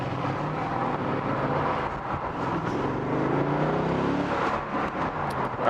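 A V8 biturbo engine on a BMW Z8 gives a steady, loud rumbling drone that swells slightly as it revs, close by and alone without talk.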